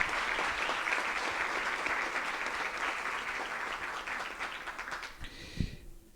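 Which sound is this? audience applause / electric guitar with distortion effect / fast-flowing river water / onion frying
audience applause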